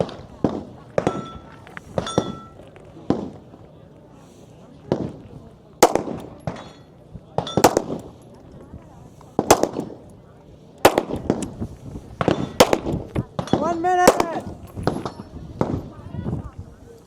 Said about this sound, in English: 10 shots with pistol, and then she will be done.